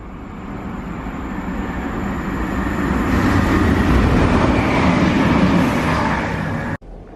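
A Chiltern Railways train to Banbury rumbles into a station, a broad, steady roar that swells over several seconds and then cuts off abruptly. It is loud and close, with no voices.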